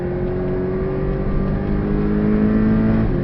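A Porsche Cayman 718 S on the Portimao race track in the Algarve makes a loud, steady engine drone with a shifting harmonic pitch. It is heard close and continuous throughout, with no talk over it.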